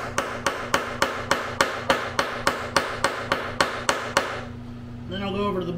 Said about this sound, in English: Now I'm just gonna peen them over